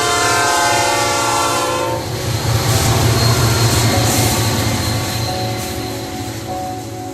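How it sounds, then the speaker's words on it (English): A train roars past on tracks a few houses away, loud and close, its horn blaring in a long sustained tone over the rumble and clatter of the cars, with no voices. "would I hear the roars and the whistles of the trains along the tracks"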